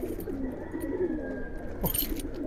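Kaldom pigeons cooing at a pigeon farm, quiet low murmuring coos running through the whole moment over faint ambient noise, with a brief brighter rustle near the end.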